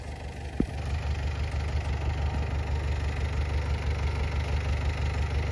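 A tractor engine idles close by with a steady low chugging rumble, after a brief knock at the start.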